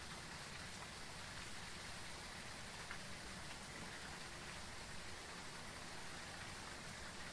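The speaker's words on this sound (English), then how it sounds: "Wow, heavy rain." Heavy rain from the horror game Phasmophobia, a dense, steady, loud downpour hiss that fills the whole clip without a break, with no voices over it.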